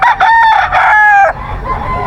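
A White Kelso gamefowl rooster with a straight comb crows loudly and close by in long drawn-out calls, then follows with softer clucking and low chatter.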